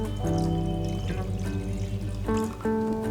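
Water pours steadily into a cooking pot meant for boiling vegetables for stock, a close continuous trickle and gurgle with shifting pitch as the pot fills.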